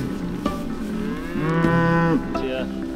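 A cow on a farm gives a single clear, drawn-out moo, rising and holding for about a second, with a faint click and quiet outdoor background around it.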